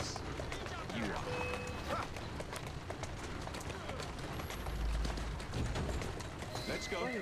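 Horse hooves clip-clop in a quick, steady running rhythm amid dense Assassin's Creed Syndicate game sounds and background noise, with a voice talking over it.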